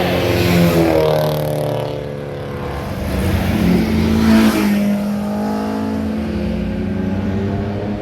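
A Subaru BRZ accelerates past at a Tougefest mountain road gathering, its engine note climbing and surging loudly as it sweeps by close, fading slightly then revving again.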